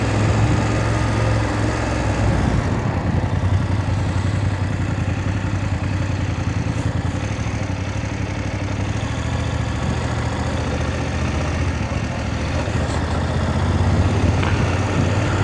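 A motorbike engine runs steadily and fairly loud throughout, a continuous low rumble with a constant hum, riding through a town in Trim, Ireland, with no talk.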